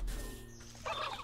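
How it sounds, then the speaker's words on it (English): Angry turkeys in the video game Wytchwood give a short, rapid gobbling burst after a low background hum. "A lot of angry, angry turkeys."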